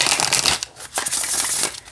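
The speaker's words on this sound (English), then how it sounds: "Let's see how it shuffles." Brief riffle of a Mushroom Spirit oracle card deck with sage-green edging being shuffled, a close, crisp flurry of card slaps in two quick bursts.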